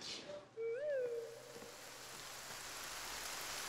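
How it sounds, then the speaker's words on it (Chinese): Rain falls steadily, a soft, faint, even hiss of drops that builds after a brief high whistle-like tone near the start. "哎，下雨了"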